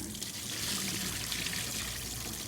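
Water from cooked spaghetti pours out while draining, a steady rushing splash that stays even and fairly loud for a couple of seconds.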